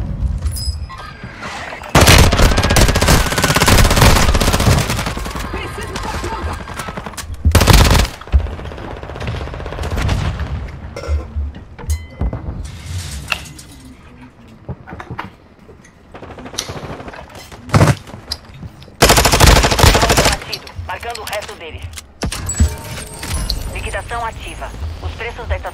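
Rapid bursts of Call of Duty: Modern Warfare 3 gunfire, some sustained like automatic fire, mixed with booms and impacts, while players talk excitedly in Portuguese over the action.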